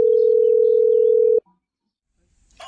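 A telephone sounding with a single steady electronic tone that lasts just over a second and stops sharply, followed by near silence and then a brief noise.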